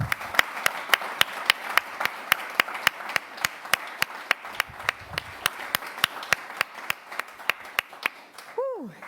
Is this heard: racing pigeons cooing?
no